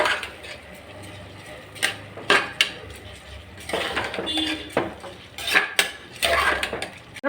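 A spoon stirs mushroom rice pulao in a metal cooking pot, with irregular scraping strokes and sharp clinks against the pot's sides, close and moderately loud, separated by brief quieter pauses.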